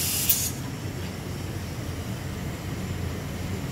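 Compressed air escapes at a cement plant in Opole, making a steady broadband hiss that continues the whole time, with a brief sharper burst at the start.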